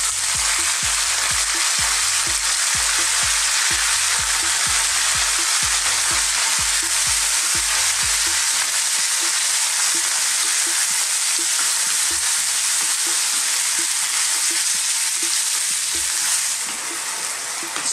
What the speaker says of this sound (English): The next thing is we're going to drop in our beef, and we're going to stir fry it for about 3 to 4 minutes.